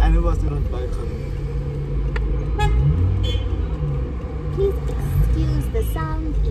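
Lunch-hour street traffic in Namibia with car engines rumbling and a few short horn toots rising above the steady road noise, heard from nearby amid the bustle.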